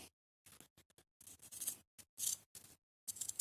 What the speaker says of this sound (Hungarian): Ja, hogy erre kellett nekem az olló.